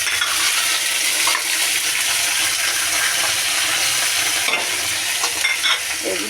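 Spice paste frying with fish and onion in a pan, a loud continuous sizzle with occasional stirring clinks and scrapes.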